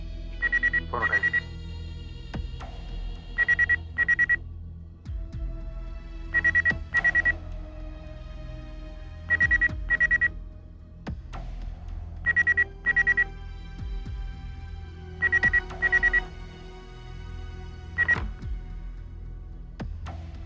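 A telephone rings repeatedly in a home, each ring a pair of quick electronic trills at steady intervals, heard over a low background music score.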